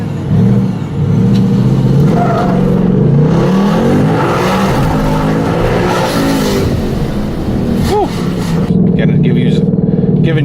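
A 2018 Ford Mustang GT fitted with a Vortech supercharger drives with a loud, steady engine drone and rising revs, one clear upshift near the end, and a person exclaiming briefly inside the car.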